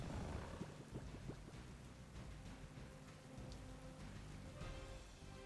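Steady rain pours down with a low rumble of thunder beneath it in Pokemon Scarlet and Violet, continuous and fairly close, with no voices.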